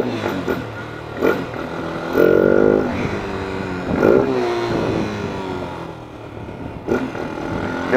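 A 250 cc motorcycle's engine is revved in several sharp, close-up bursts while accelerating, each rising in pitch before falling back to a rough, mid-pitched idle.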